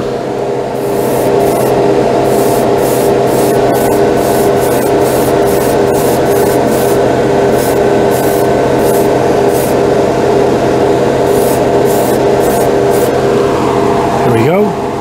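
A steady, loud hiss of a spray gun spraying Stynylrez acrylic primer runs continuously, with faint mechanical hum underneath and a brief rising tone near the end.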